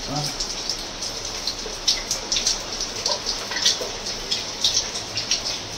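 Heavy rain falls in a steady broadband hiss, with irregular spattering drops and louder bursts coming through at a moderate level.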